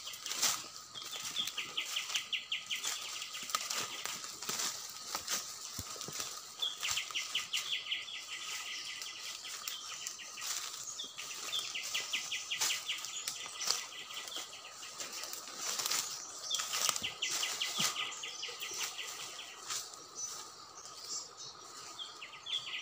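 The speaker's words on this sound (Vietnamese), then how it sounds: "Các bạn thấy chim kêu không?" Birds call repeatedly in a forest, bursts of high chirping trills recurring every few seconds over a steady wash of insect-like background hum.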